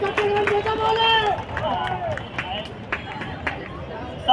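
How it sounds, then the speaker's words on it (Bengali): Crowd at a student protest rally clapping in a brief, uneven patter of claps that thins out, with a voice and crowd babble continuing over it. "সবাই করো হাততালি দিন।"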